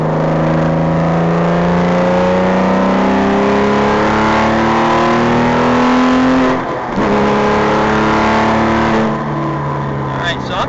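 A Porsche fitted with an R43 engine accelerating with short shifts, its loud engine note climbing steadily in pitch, dropping briefly at each gear change and then rising again, recorded close from inside the car.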